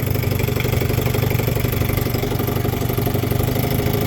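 A 1960 Johnson 5.5 hp outboard motor idles in reverse, a loud, close, steady putter with a mechanical clatter and no speech.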